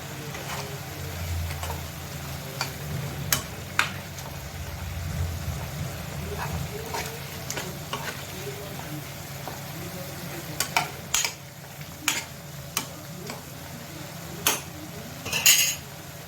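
Potatoes with masala are stirred and fried in a pan, a low sizzle under repeated sharp scrapes and clinks of a spoon against metal that cluster toward the end.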